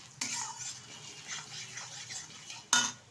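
Spatula or spoon stirring frying dal with turmeric in a metal pan, soft scraping strokes with two sharp clinks against the pan, one near the start and one near the end, over faint sizzling.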